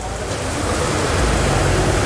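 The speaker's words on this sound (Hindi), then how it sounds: "तो ये देखिए गाइस कितनी तेज़ बारिश पड़ रही है" Heavy rain pouring down at night near Ram Jhula in Rishikesh, a dense, steady hiss of broadband noise filling the whole moment, close and continuous with no voices.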